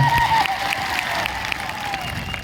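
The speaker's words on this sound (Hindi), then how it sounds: "एक बार जोरदार आपके लिए तालियां बजा दी जाए" A crowd at a political event applauds in a steady, dense patter of clapping, partly under an amplified voice speaking over a loudspeaker.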